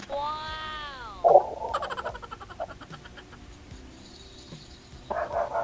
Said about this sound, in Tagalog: Ayun, tumatahol na yung aso.